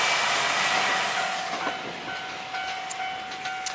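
A train emerges from a tunnel and rolls past on a curve, a broad rumbling wash that fades as the cars pass, with a steady whine and rail clicks, outdoors in strong wind on a scooter trip through Shimane, Yamaguchi and Hiroshima.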